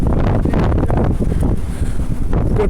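Strong wind buffets the microphone in loud, continuous rumbling gusts during a bicycle ride along Venice Beach in Los Angeles, with no talk heard.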